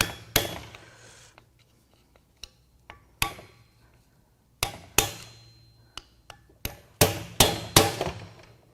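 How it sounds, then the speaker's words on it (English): Sharp metallic hammer blows strike a chisel driver on a stuck part of a seized BMW M5 S63Tu twin-turbo V8 engine, irregular at first, then a quicker run of loud clanging hits near the end. "I'm gonna need some hammer time."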